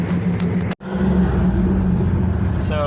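A Pontiac driving around the block, a steady close engine rumble inside the car with a brief dropout partway through.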